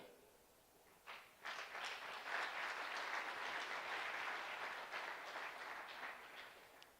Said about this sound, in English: An applause for all of them.